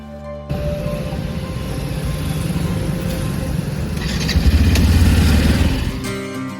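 A motorcycle engine runs steadily from start to end, swelling louder near the close as the bike pulls away outside a roadside tea stall.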